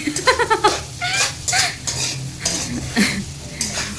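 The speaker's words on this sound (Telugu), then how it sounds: "ఒకసారి కలుపుకుందామండి అంటే కారం వేసాం కదా అడుగంటకుండా ఒకసారి కలుపుకుంటే" A spoon stirs chili-spiced bodakakarakaya curry in a metal pan, making loud close scrapes and clinks against the pan in an uneven rhythm over a light sizzle of frying.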